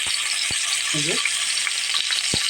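Fish pieces frying in a pan give a loud, continuous dense hiss and crackle from start to finish, with a couple of sharp knocks and a brief low clatter over the steady sizzle.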